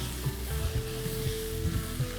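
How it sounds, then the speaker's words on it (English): Garlic sizzles and fries in a soup pot alongside other browning vegetables, a steady dense crackle with faint stirring clatter and low thuds, close and continuous with no talking. "I'm putting the garlic in now because I don't want the garlic to brown the way everything else is already browning in the pot"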